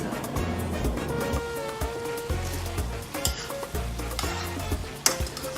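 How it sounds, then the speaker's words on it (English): Pancit canton bihon guisado simmers with half a cup of soy sauce in a pan, a soft continuous bubbling sizzle with occasional utensil clinks, heard beneath steady background music. "And then we're gonna let it simmer for 5 minutes."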